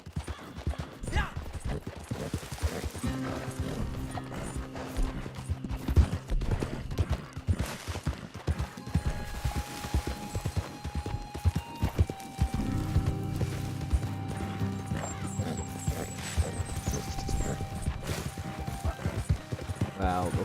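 Horse hooves gallop steadily in Red Dead Redemption 2, a continuous run of clip-clop beats at close range over game ambience and tonal music, with no talk.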